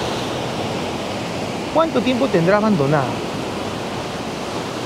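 Sea waves by an abandoned house, a steady broadband rush of surf throughout, with a voice talking briefly over it in the middle.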